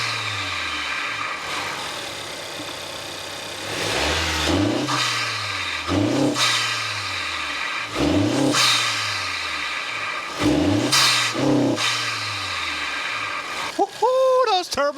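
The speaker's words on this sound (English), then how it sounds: "Those turbo sounds are back in action." A Chevrolet Silverado truck's turbocharged engine is recorded close at the air intake. It revs repeatedly in about five rising and falling bursts, with a swooping turbo whistle over a steady idle.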